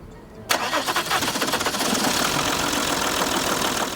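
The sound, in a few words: car engine starting and running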